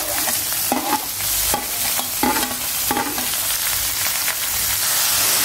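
Ginger, garlic, green chili and curry leaves sizzle steadily in oil in a home kitchen pan, while a spoon scrapes and stirs in repeated strokes about once a second, close and fairly loud with no voices.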